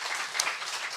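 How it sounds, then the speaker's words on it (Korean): A church congregation at a Friday night prayer service in Korea applauds, giving a brief, dense, steady burst of clapping. "우리 감사의 박수 한번 벌려주시면 좋겠습니다"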